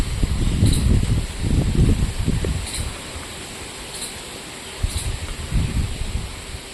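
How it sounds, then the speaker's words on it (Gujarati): Strong afternoon wind gusts through a village near Porbandar, buffeting the microphone with a heavy low rumble and a steady rustle that rise and fall in surges. "પવન તો જો બહુ મસ્તી નો હાલે આ બપોરે."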